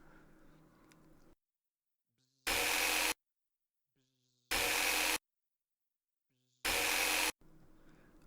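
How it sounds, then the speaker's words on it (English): A power drill whirs in three short, loud bursts of about half a second each, separated by near silence, while tight bolts are backed out in a roleplay ASMR scene, with soft voice before and after. "I might have to pull out the drill"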